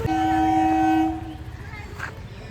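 A train at Kinnahar railway station sounds a long, loud horn that holds steady for about a second, then fades into rumbling and distant station noise.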